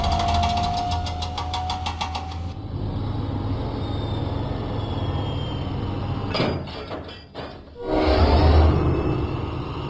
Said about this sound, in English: Diesel set out for the Sodor Search and Rescue Centre